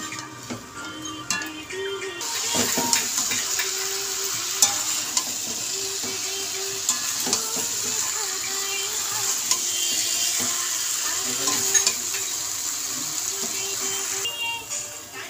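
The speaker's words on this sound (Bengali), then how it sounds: "ভালো করে আমি এটা কষবো।" Fried vegetables being stir-fried in spice masala in a pan give a steady, close sizzle with repeated scraping and stirring clatter throughout, with no talk.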